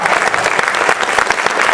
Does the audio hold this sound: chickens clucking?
no